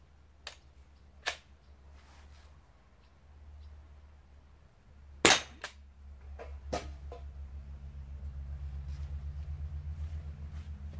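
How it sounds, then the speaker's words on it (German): A Gamo air rifle fires a JSB Predator pellet at a steel target, heard as one sharp, close crack, followed by a few lighter clicks and a low rumbling hum that builds toward the end. "die Gamo wird wieder frisch geladen mit dem Predator und ich werde auf das Flacheisen schießen."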